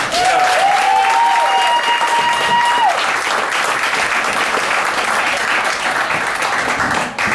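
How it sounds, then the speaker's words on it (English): Loud, sustained applause from a stand-up comedy audience fills the room, with a brief whistle-like tone early on before the clapping carries on evenly. "give me a Prince George round of applause"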